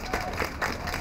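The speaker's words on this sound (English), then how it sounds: "Applause, applause." Brief burst of audience applause at a Cambridge Police Central Square substation ribbon cutting, a short wash of clapping with a few louder peaks, moderately distant in a crowd.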